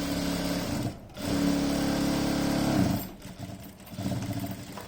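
A sewing machine stitches a pillow cover in short bursts of fast, even whirring, stopping briefly between runs, close and fairly quiet.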